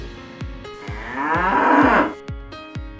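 An ox gives one long, loud, drawn-out moo close by, with a few sharp knocks before and after it.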